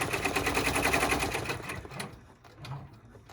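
An embroidery machine stitches a boxing step in white thread, a fast rhythmic chatter of needle strikes that slows and trails off into a few softer clicks near the end.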